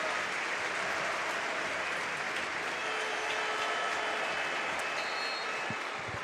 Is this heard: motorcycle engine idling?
no